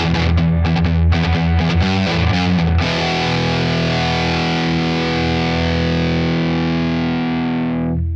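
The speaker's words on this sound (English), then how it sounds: "Let's try some real high gain stuff. This is really where this bridge pickup is going to shine." A heavily distorted Ibanez RG6003FM electric guitar on its bridge pickup at high gain chugs through a quick riff, then rings out on a long sustained chord that slowly fades, loud and close.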